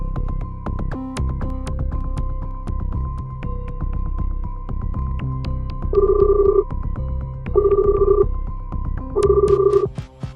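An unanswered phone call rings in a tense thriller scene, three short electronic ringing bursts repeating at a steady pace over a throbbing, busy background score.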